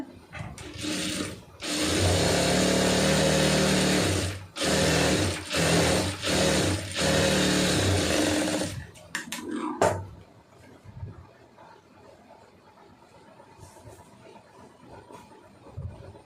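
A domestic sewing machine runs in several bursts, stitching a puff sleeve onto a lined blouse, a steady close mechanical whirr stopping and restarting, then quiet handling noises.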